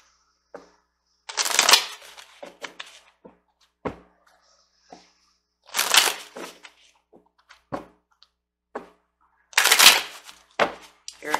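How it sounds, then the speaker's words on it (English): Tarot cards are shuffled by hand in three separate bursts of crisp riffling, each a couple of seconds long, with quiet taps and card handling between them. "So let's get a chakra card over here."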